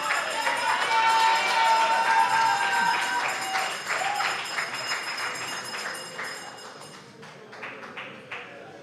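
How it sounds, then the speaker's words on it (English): Town hall meeting audience applauding in a large room, dense clapping that gradually thins out and fades to a few scattered claps. "You finished clapping?"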